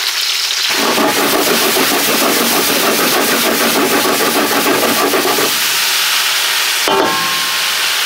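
Vegetables and garlic sizzle hard in avocado oil over high heat, a loud, dense crackle running steadily for most of the stretch, then dropping back before a brief sharp burst near the end.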